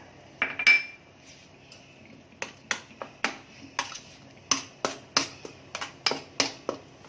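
A spoon stirring gram flour and chutney into yogurt in a metal bowl, making a series of sharp close clinks and taps in uneven bursts, with quiet pauses between.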